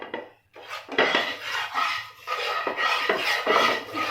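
Roasted gram flour is stirred in a pan with a spoon, making repeated scraping, rasping strokes against the metal. They come in close, fairly loud bursts with short gaps between them.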